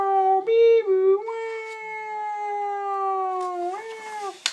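A human voice imitates a cat meowing, sustained pitched meows with sliding tones, read aloud as part of a children's story, close and clear with brief pauses between calls.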